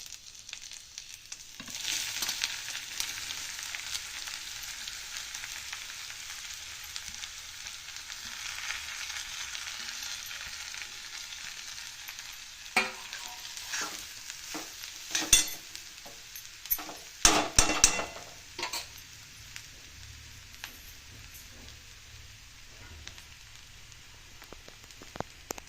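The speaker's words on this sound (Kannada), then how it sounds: "ಈಗಿದು ಕ್ಯಾರೆಟ್ ತುರಿ ಹಾಕ್ತೀನಿ ನೋಡಿ" Grated carrot fries in ghee in a pan, giving a steady close sizzle throughout, broken midway by a burst of scraping and clattering stir strokes before the frying settles again.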